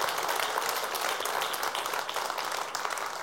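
An audience at a comedy league show bursts into steady, dense applause, many hands clapping continuously at moderate distance, with no other sounds over it.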